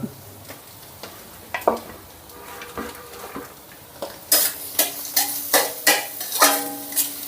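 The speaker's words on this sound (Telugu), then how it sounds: "స్టవ్ని సిమ్లో పెట్టుకొని వీటన్నిటిని మెత్తబడేంత వరకు వేపుకుందాం" Chopped onion, carrot, green chilli and mint frying on a low flame make a soft sizzle. Metal spoon scrapes and clinks against the pan grow louder and more frequent over the last few seconds.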